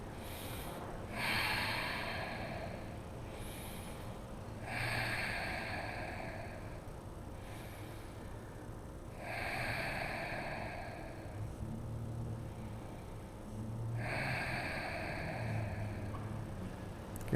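Slow, deep breaths during a strong vinyasa yoga class pose, each inhale and exhale a soft, airy rush repeating about every four seconds, close and quiet with no talking.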